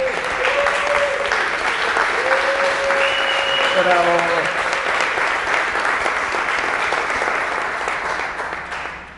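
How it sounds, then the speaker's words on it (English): A crowd applauds warmly and steadily, dense clapping filling the space throughout, with a few faint voices or tones mixed in, fading slightly at the end. "So a warm applause for Christine."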